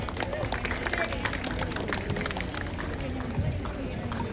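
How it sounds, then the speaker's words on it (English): Students at a college National Youth Day celebration give a steady round of applause, a soft, distant patter of many hands under murmuring voices. "Give him a big round of applause."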